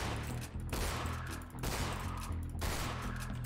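Repeated shotgun blasts in the Granny horror video game, three loud heavy bursts about a second apart over a steady rumbling game soundtrack.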